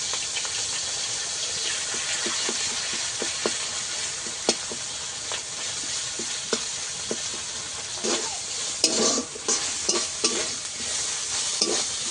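Ginger-cumin paste frying in hot oil with prawns for a Bengali bottle gourd dish, a steady close sizzle broken by scraping stirs and a few louder clatters near the end.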